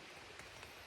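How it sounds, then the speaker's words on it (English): Steady rain falling on a hiking trail in the Smoky Mountains, a soft continuous hiss with faint scattered drop taps, fairly quiet and even throughout. "And it's raining."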